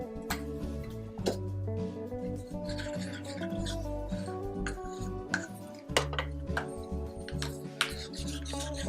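Silicone-laced paint being stirred lightly in a container, giving a steady rubbing, rasping scrape that runs continuously at moderate level over a low tonal background.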